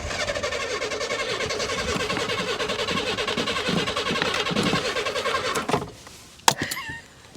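A 1984 Chevy Citation engine cranks and catches into a steady, rough-running idle with a pulsing mechanical drone for about six seconds, then cuts back abruptly, followed by a sharp click and faint noises.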